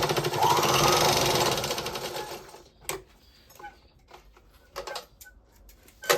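Sewing machine stitching fabric, with a rapid buzzing rattle of the needle running for about two seconds and then slowing, followed by scattered clicks and clunks of the machine and cloth being handled up close.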